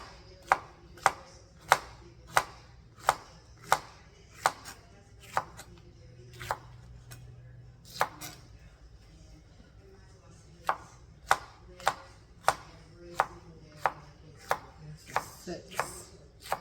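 Green beans chopped by hand with a knife on a board, a run of sharp, evenly spaced close-up thwacks roughly twice a second, with a short pause midway before the chopping resumes.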